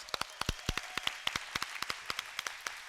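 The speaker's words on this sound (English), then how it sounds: "Give him a big round of applause." A short burst of applause, crisp individual claps from a small group, rapid and fairly close, lasting a few seconds.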